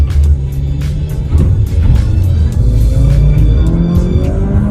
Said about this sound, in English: A little bit slow at accelerating, as you guys can tell from this clip.